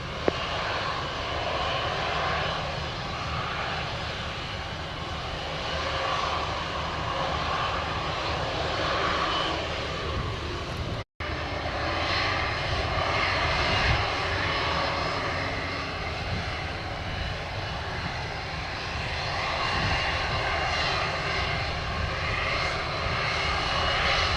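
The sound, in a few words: JetBlue airliner engines while taxiing on runway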